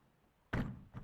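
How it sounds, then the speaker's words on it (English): The ramp door of an ATC car hauler trailer swings shut with a single solid thunk, followed by a brief softer settling knock, close by and with no talk. "let's go ahead and close the door real quick, the ramp door here"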